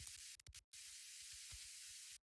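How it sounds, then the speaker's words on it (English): Vinyl atmosphere layer for a deep minimal house track: a steady, faint hiss of record crackle with soft pops and low thumps scattered through, heard alone with a short dropout near the start. "the last layer that we have in here is just this vinyl atmosphere"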